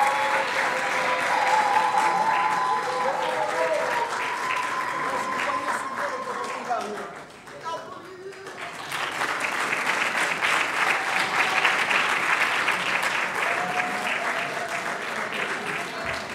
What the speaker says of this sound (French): est-ce qu'on peut applaudir pour Commando?